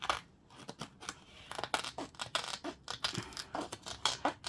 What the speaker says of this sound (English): These scissors going through this.